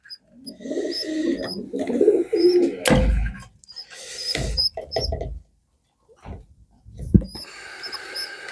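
Young pigeons (squabs) coo in a loft, soft repeated coos and bird calls in loose bursts, close and moderately loud, with some scattered knocks and pauses between.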